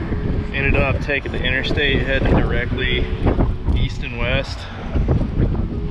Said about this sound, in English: This wind is insane out here today.